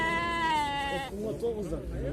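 A sheep or lamb gives one drawn-out bleat at a busy livestock market in Jalal-Abad, where sheep are sold with their lambs. Voices of people talking follow over the crowd noise.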